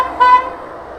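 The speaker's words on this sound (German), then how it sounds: "zur Begrüßung hupen die hier" A single short car horn toot sounds nearby, a quick friendly honk in greeting along a roadside walking route in Spain toward O Porriño, followed by quiet background.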